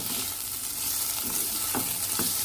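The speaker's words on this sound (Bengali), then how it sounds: "এই হচ্ছে খুব কম তেলের উচ্ছে ভাজা" Bitter gourd sizzles in a little oil in a pan, a steady close crackle with a few soft stirring scrapes toward the end.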